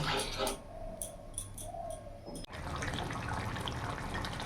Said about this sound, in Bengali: এর মধ্যে এখন জল দিয়ে দেবো